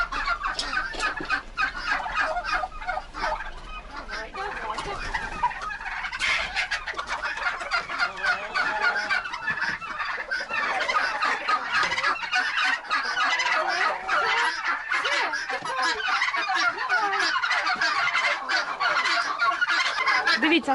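A flock of turkeys in a farmyard gobbles and clucks loudly nearby in a constant jumble of agitated calls while fighting, with scuffling and a crowing note mixed in.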